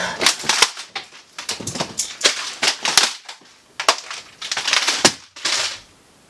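A computer keyboard is smashed in frustration during a gaming session, giving a loud burst of sharp clattering bangs and thumps in uneven rapid clusters, close to the microphone, with no talking over it.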